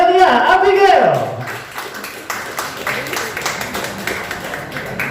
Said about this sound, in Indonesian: boleh tepuk tangannya untuk Gracelia Abigail